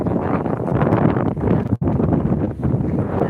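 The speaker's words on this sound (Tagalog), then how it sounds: "sobrang hangin mga kalingap" Strong wind at Bagasbas de Embarcadero in Legazpi roars and buffets the microphone in loud, continuous gusts, with a brief sharp dropout partway through.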